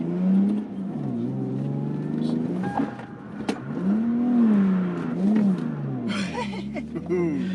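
A Lexus IS200 with a welded differential revs and swings through handbrake turns, its engine note rising and falling in loud close sweeps, with a voice briefly heard over it.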